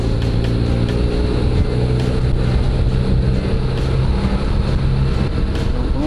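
A BMW R1200GS motorcycle cruises on a Japanese expressway, its engine drone steady and continuous under heavy wind rush, loud and unbroken throughout.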